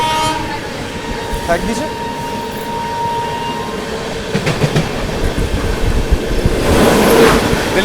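The Delhi Kamakhya Brahmaputra Mail train rushes past in heavy rain, with a loud rolling rumble and clatter of wagons, a horn blast and a surge of noise near the end, while a voice speaks briefly.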